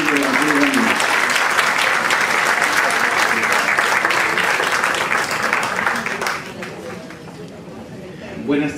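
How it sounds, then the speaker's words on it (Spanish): Warm applause from an audience at a university education gathering greets a teacher coming up to speak, steady dense clapping filling the room for about six seconds before thinning out and ending with a brief burst of voices. "Pido que lo recibamos con un cariñoso aplauso al maestro Danilo de la Cruz Ramírez."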